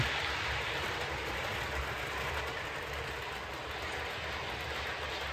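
A small model railway train rumbles steadily along the track with a continuous rolling hum and faint clatter, close by and unbroken.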